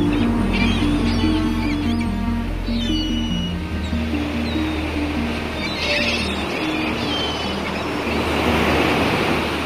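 Calm ocean waves wash in a continuous, soft surge around a wooden canoe at sea, with wind noise and sustained musical tones underneath.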